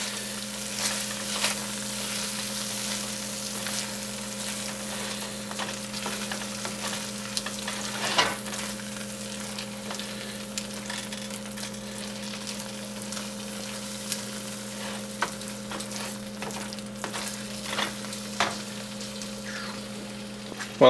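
Mushroom risotto is stirred in a pan over a low steady sizzle, with soft scrapes and occasional utensil taps against a constant background hum, close and without talk.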